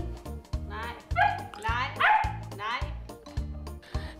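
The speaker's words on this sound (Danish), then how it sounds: "Gudskelov, så gøede jeg så meget" A three-month-old red royal poodle puppy yaps and barks repeatedly, with short high yips and whimpering bursts at a quick uneven rhythm. The sounds are close and loud, with no talk.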